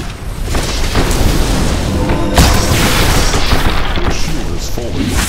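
A heavy booming blast rumbles as an enemy shrine is destroyed in the video game Sphere of Wudeng, a dense, loud, sustained explosion texture with crackling debris and no clear gaps.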